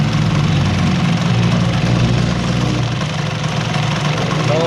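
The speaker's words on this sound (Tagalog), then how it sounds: "Yan yung tunog ng makina" A Kawasaki AR80 motorcycle engine runs after a crankshaft rebuild, idling loudly and up close with a steady, rough two-stroke drone and no pauses.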